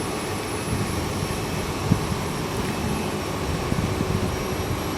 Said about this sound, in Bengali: তো দেখতে পাচ্ছেন এটি হচ্ছে ফেরি কার্নিভাল ওয়েভের ইঞ্জিন রুম